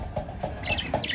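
A small bird nearby gives a quick run of high chirps and tweets in an uneven rhythm.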